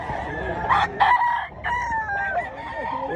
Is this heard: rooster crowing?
yes